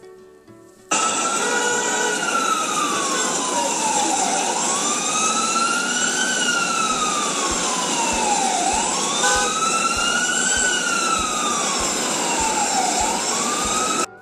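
Sirens from a fire engine and a police car wail loud and close, their pitch rising and falling in repeated sweeps over a low engine rumble for about thirteen seconds.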